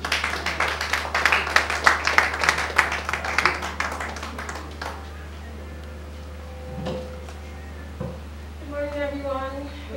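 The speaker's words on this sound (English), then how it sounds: "Please let's clap for her." An audience at a Coca-Cola Foundation computer donation event claps for about five seconds, a dense round of applause that fades out, followed by a few scattered sounds and a voice beginning to speak over a steady hum.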